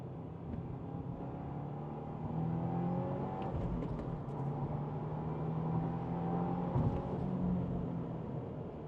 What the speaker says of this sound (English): Boxer engine, it has such a nice feel to it, the way it revs.